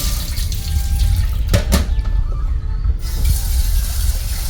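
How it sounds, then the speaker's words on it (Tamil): Water pours and splashes steadily as it drains from a pot of washed rice, close and loud, with a few brief clinks midway. "இப்போ தண்ணியை வடிச்சுக்கலாம்"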